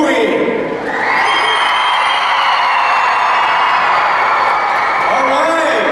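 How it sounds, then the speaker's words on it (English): An audience at an anti-bullying rally gives warm applause that swells into sustained cheering and whooping from a large crowd, loud and continuous throughout. "give a warm round of applause for Mr."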